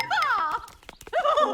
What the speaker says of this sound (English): Giddy up, you slimy stallion!